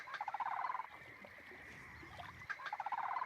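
Wild birds call in the Mangla Jodi wetland, part of the larger Chilka wetland, with bursts of rapid, repeated chirping notes at the start and end and a quieter stretch between.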